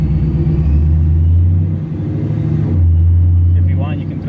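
Procharged Chevy SS engine under an acceleration pull: a deep, loud, close rumble with a steady low drone that dips briefly around a shift and then surges again, with faint whine above.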